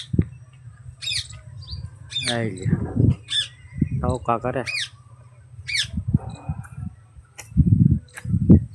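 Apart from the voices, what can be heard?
parrots squawking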